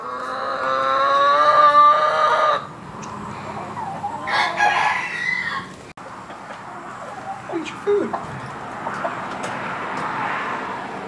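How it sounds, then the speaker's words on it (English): A young rooster in a pasture crows loudly and close for about two seconds, followed by scattered clucks and softer fowl calls, with a faint background rumble. "It's a little rooster."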